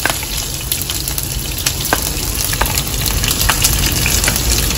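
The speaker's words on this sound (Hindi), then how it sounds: "तो अब मम्मा भगार लगाएंगे इसके अंदर।" Whole chillies, garlic cloves and cumin seeds fry in hot oil for an aloo bharta tempering: a loud, close, continuous sizzle and spatter with scattered sharp crackles, no voices.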